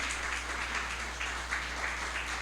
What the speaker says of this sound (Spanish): Y dale un aplauso